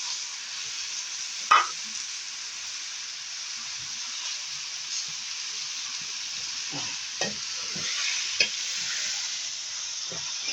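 Rice stirred in ghee in a hot pan, a steady sizzling hiss throughout with occasional scraping strokes and a few sharper knocks of the spoon against the pan.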